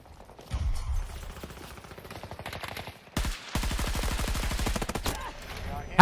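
Rapid automatic gunfire in the Battlefield video game, loud sustained bursts of repeated shots with a brief pause midway, then another long volley ending in a sharp blast.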